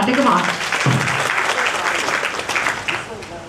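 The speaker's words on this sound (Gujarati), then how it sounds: "તો એકવાર જોરદાર તાળીઓ થઈ જાય તમારા માટે" Enthusiastic audience applause at a factory owners' association gathering in Jamnagar, loud and sustained dense clapping filling the whole moment, with a voice briefly heard over it near the start.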